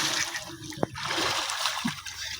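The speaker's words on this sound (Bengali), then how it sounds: "আমরা ঢাকায় লোক যখন আইসা গ্রামে কালাপানিতে গোসল করি।" Water splashes and sloshes as someone bathes in a village pond in Bangladesh, with close, irregular splashes and one sharp slap over a continuous watery wash.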